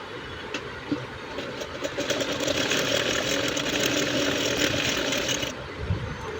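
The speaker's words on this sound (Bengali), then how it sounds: "এখন আরেকটি পাট আমি সেলাই করে নিচ্ছি।" A sewing machine runs steadily while stitching a frill panel for a child's ruffle frock, a continuous mechanical whir lasting several seconds close by, with no talking.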